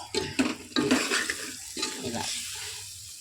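Mango pieces fry and are stirred in oil in a pan, with scraping stirs and clinks early on over a steady sizzle that carries on at moderate loudness to the end.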